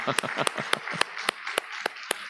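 Sharp hand claps ring out at a steady pace over a dense background wash of many people, a church congregation applauding together during a Sunday service.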